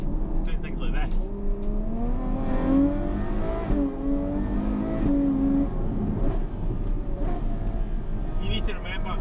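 A Ferrari 812 Superfast V12 accelerating hard from inside the cabin, a loud rising engine note that climbs through gears with brief dips between shifts, under a constant low road rumble.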